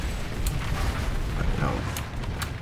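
Explosions in the online shooter Planetside 2: a continuous low booming rumble with a few sharper bursts, somewhat subdued and unbroken across the moment.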